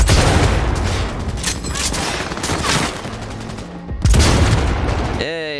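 Sniper rifle fire in the video game Cyberpunk 2077, heavy booming shots in close succession with rumbling tails, followed by a sharp mechanical reload sound near the end.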